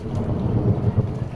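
Steady evening rain pours down on a village in Sindh, Pakistan, with a deep low rumble of thunder rolling underneath, continuous and fairly loud.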